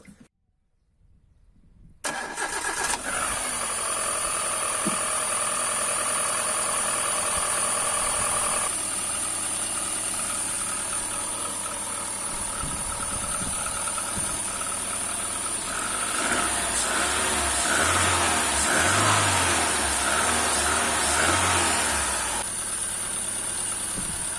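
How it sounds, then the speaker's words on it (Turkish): A Hyundai Accent engine cranks and catches after a short silence, settles into a steady idle, then revs up and down in repeated surges while coolant circulates after a radiator replacement, close and clear with no talking. "Sonra motoru çalıştırıp devir daim yaptıracağız."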